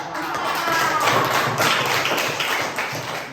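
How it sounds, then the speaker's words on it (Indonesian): Classroom students applauding a group's answer, a dense, continuous burst of many hands clapping and tapping close by, steady and fairly loud with no talking over it. "Ya, tepuk tangan dulu untuk jawaban dari kelompok"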